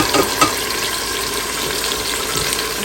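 Tomatoes and spices frying in a pot for aloo gosht give a steady, close hiss and sizzle, with a few soft stirring knocks near the start.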